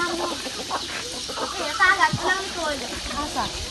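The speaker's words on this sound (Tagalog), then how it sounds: "Daming manok dito mga kababayan." Chickens cluck and chatter nearby on a hillside farm in the Philippines, short clucks scattered throughout, with a voice talking among them.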